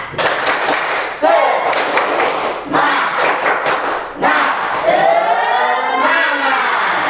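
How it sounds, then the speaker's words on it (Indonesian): A school class of ninth graders performs a tepuk semangat clapping chant in a classroom, with loud rhythmic bursts of clapping and thumps alternating with the group's chanted voices, close and energetic. "Kita mau tepuk semangat dulu."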